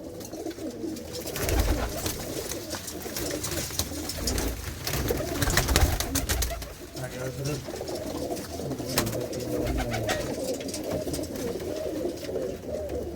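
Pigeons coo softly and repeatedly amid a busy outdoor background, with people talking nearby, including a white pigeon.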